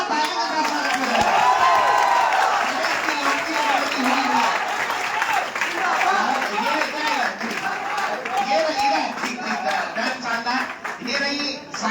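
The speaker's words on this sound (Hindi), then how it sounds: "एक बार जोरदार तालियों के साथ स्वागत करें।" Sustained audience applause greets the launch of a new website at a Children's Day event, dense and steady for about twelve seconds, with a voice speaking over the clapping.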